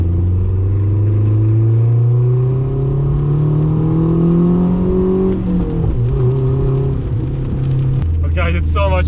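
A turbocharged BMW car engine pulls hard under boost while running lean, its rising drone climbing steadily for about five seconds before abruptly cutting off. A second, shorter surge follows near the end.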